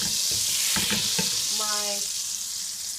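Olive oil frying in a hot pan gives a steady broadband sizzle, with a few clinks and taps of a utensil against the pan and a brief scraping sound near the middle.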